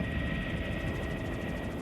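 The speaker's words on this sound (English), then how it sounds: "Virtually everyone coming to ski Kokanee Glacier Park comes by helicopter" A helicopter flies skiers into Kokanee Glacier Park in British Columbia, its rotor throb a steady, fairly loud drone that holds through the whole brief stretch with no voices.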